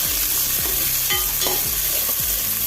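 Chopped onion frying with mustard seeds in two tablespoons of oil for a cauliflower curry, a steady close sizzle broken by about five rhythmic scraping stirs of a spoon through the pan.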